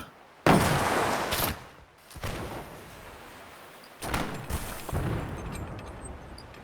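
Ship cannons firing during a naval battle video game: a few sharp, heavy blasts in separate bursts, each with a short rumbling decay, loud and close with quieter gaps between.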